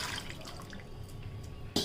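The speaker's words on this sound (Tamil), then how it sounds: "இதுக்கு தேவையான தண்ணி ஊற்றிட்டு" Water is poured into a tamarind and tomato rasam mixture with turmeric, curry leaves and rock salt, a soft, close trickle and splash at low level, ending in a brief louder gush.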